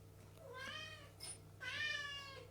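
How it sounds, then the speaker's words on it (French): A cat yowls in two long, drawn-out wails with a short gap between them, clear and fairly close over a low steady hum. "Je ne sais pas si vous entendez un chat qui hurle."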